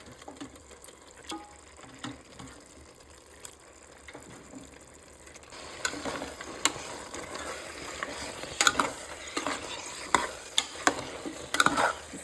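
Chicken curry being stirred in a pan, with scraping and clinking of the spoon against the pan over a soft sizzle, quiet at first and then louder and busier in the second half, with sharp clacks throughout.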